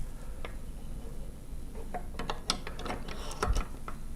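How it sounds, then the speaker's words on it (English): A filter cube slider with its carrier slides into the right side of an A310 microscope, giving a run of small mechanical clicks and ratcheting taps, close and fairly quiet, with a couple of sharper knocks near the end. "mount the filter cube slider, including the carrier, into the right part of the microscope"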